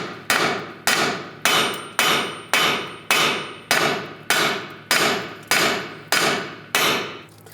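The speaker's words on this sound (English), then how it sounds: "You can use a hammer," A hammer strikes the steel strut knuckle of a 1998-2010 Volkswagen Beetle twelve times in an even rhythm, each blow a loud, ringing metallic clang that fades before the next.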